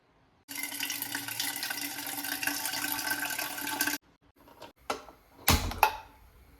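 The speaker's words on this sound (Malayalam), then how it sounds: "പുട്ടുണ്ടാക്കാൻ വേണ്ടിയിട്ട് പാത്രത്തിൽ നമുക്ക് വെള്ളം" Water runs from a tap into a pot for steaming puttu, a steady close gush for about three seconds, then stops, followed by a few clanks of the pot being handled.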